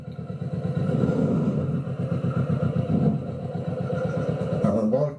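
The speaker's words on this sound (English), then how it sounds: "And the bike will just move forward at idling speed." A Kawasaki Vulcan S motorcycle creeps forward at idle speed with the clutch eased out, its low, steady, pulsing engine rumble close and continuous throughout.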